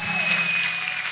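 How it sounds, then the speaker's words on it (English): Church congregation clapping together during a worship service, a short spell of steady, moderately loud applause from many people. "Can you clap for Master Jesus?"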